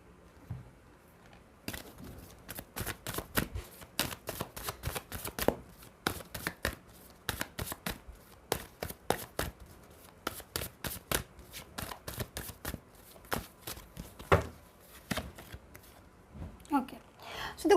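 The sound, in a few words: tarot cards being shuffled and drawn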